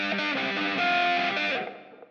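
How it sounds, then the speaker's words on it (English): Distorted electric guitar intro with reverb, a dense sustained chord wash that swells, holds, then fades into a short reverberant bloom near the end. "So the reverb is set for the intro like that."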